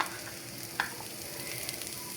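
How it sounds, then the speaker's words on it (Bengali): Sliced onion fries with chapa dried fish in a pan, a soft steady sizzle with one brief stirring clink, fairly quiet. "এখন আমি এনে পেঁয়াজ দিয়ে দিব, পেঁয়াজটাও একটু ভেজে নিব।"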